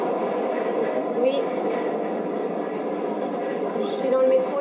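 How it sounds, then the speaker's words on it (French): Ride inside a Paris métro train: a continuous muffled rumble and rolling hum of the carriage, with faint squeals and clatter rising now and then, steady throughout with no speech. "Je suis dans le métro, j'arrive."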